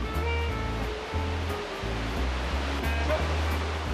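A mountain valley stream at Eoreumgol rushes steadily, a loud, continuous wash of water close by with no other sounds.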